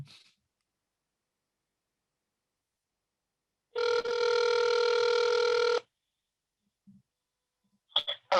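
A telephone rings once on an outgoing call, a steady electronic burst lasting about two seconds, clear and close, followed by near silence and a few faint clicks.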